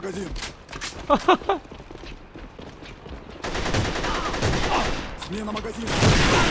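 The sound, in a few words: gunfire and RPG shots in video game AVA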